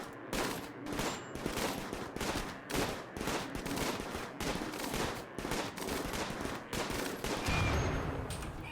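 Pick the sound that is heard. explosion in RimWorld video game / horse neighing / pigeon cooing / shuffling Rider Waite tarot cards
explosion in RimWorld video game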